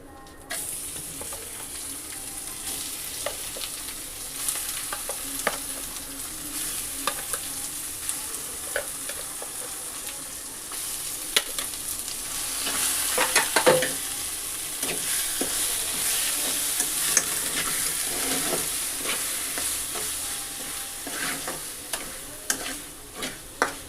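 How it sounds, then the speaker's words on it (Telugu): Tempering for mint chutney sizzling in a pan, a constant crackling hiss with scattered sharp pops and stirring scrapes, close and loud, swelling midway with no talk. "ఇదిగోండి తాలింపు వేసుకున్నాం మనం"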